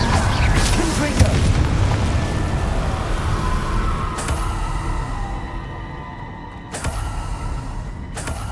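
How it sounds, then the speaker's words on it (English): A Confringo explosion spell goes off in Hogwarts Legacy, a heavy, booming blast with a deep rumble that slowly fades, overlaid with game sounds and a voice. "Confringo."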